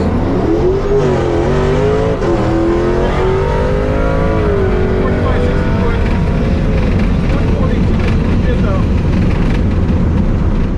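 Drag race cars launching down a quarter-mile strip, with loud engine roar and rising revs sustained throughout, heavy and close, with a voice talking over the noise.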